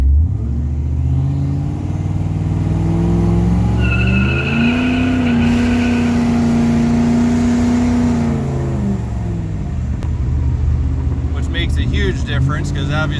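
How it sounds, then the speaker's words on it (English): A 1981 Turbo Trans Am with a 301 turbo engine launches hard, its loud close engine note rising and holding as the tires break loose and squeal, then fading to idle with a voice heard at the end. "obviously you can tell it broke the tires loose"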